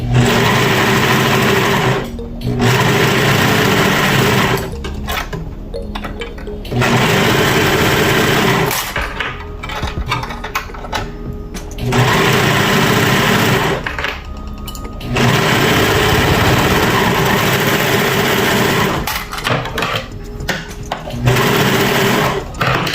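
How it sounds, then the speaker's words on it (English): A serger stitches the shoulder seams of a T-shirt dress in loud, fast buzzing bursts of a few seconds each, separated by short pauses, about six runs in all. "I got the two shoulders serged on this part"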